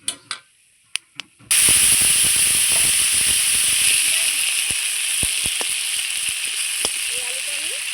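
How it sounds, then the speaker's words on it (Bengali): Bay leaf, cinnamon and three small cardamom pods drop into hot oil for a fish curry, bursting into a loud, steady hiss and sizzle that runs on after a few sharp taps, with occasional clinks above it. "এবার আমি ফোড়নে দিয়ে দিচ্ছি তেজপাতা"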